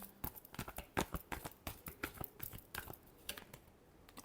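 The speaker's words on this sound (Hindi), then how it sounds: "last shuffle" Tarot cards get shuffled in a quick run of crisp, close clicks and flutters that taper off toward the end.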